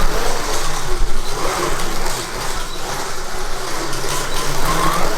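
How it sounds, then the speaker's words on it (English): A small electric motor whirs continuously as a Carrera magnet slot car circles a Carrera track, with a faint rattling track noise rising and falling. "this is the Carrera car with the magnets on the Carrera track."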